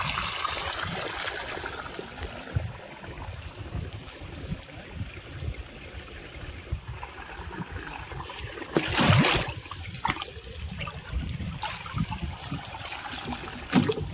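Water drains out of a household water tank after its plug is pulled for cleaning, a steady trickling gurgle with faint splashes and a brief louder gush partway through, no talking.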